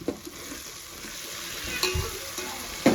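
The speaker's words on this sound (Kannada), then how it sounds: "ಮಂಡಕ್ಕಿ ಮಾಡೋದಕ್ಕೆ ಒಗ್ಗರಣೆ ರೆಡಿ ಮಾಡ್ತಾ ಇದ್ದೀನಿ" Tempering, or oggarane, frying in a pan for Mysore mandakki gives a steady soft sizzle broken by a few scraping stirs and clinks of a spoon, no talk.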